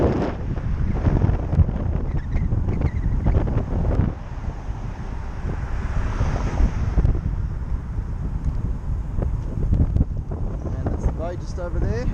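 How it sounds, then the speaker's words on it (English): Wind buffets a microphone outdoors on a residential street during a food delivery, a constant rumbling roar that covers the whole clip, with faint speech mixed in. "Sorry about the wind."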